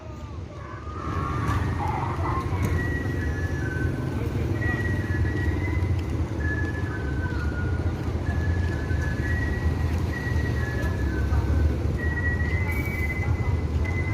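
A new Adi Putro-bodied bus for the Gumarang Jaya fleet rumbles with a steady, loud low engine drone throughout, joined by faint tonal whines and background chatter from people nearby.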